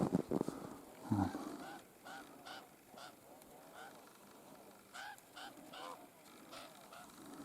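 A flock of wild geese honks outdoors, with a loud burst of calls at the start followed by repeated, more distant honking in scattered bursts.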